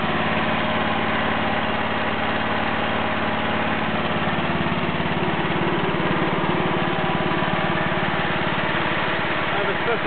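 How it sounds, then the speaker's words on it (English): A Wheel Horse Lawn Ranger riding mower fitted with an 11-horsepower Briggs and Stratton engine and stacked exhaust runs at a steady idle. The drone is close and constant, with no change in speed, and someone talks over it. "I replaced that engine with an 11-horse Briggs and Stratton."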